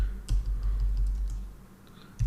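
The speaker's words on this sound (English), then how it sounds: "simply type out the IP address" IP address being typed on a computer keyboard, a run of light, quick key taps at close range over a steady low hum.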